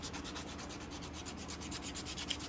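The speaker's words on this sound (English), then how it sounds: "whether I can finish it out with sandpaper by hand" Hand sanding of a carved wooden slingshot fork with sandpaper: steady, continuous back-and-forth rubbing strokes in a quick even rhythm, close and moderately quiet, with no talking.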